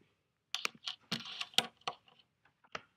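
Someone types a code on a keyboard: a quiet, close run of sharp, irregular key clicks with brief pauses between them.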